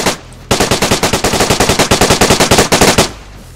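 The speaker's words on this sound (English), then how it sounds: "Are you shooting?" Rapid automatic gunfire, loud and close, in a mil-sim game at a military-style camp: a steady burst of roughly thirty evenly spaced shots that runs for about two and a half seconds, then stops.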